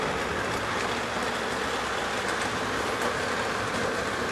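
Model train pulled by a Norfolk Southern SD60M locomotive running on its track, a steady continuous rumble and hiss at close range, with no talk over it.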